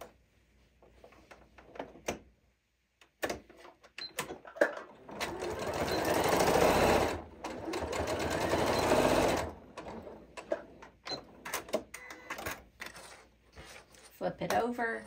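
A sewing machine stitches a reversible, microwave-safe fabric bowl cozy in one sustained run of several seconds, framed by shorter start-stop bursts, fabric handling and clicks before and after.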